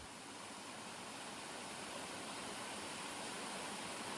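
Waterfall cascade in Kakadu National Park reached by a bushland creek walk, a steady broadband rush of falling water, even and continuous, moderately faint with no voices.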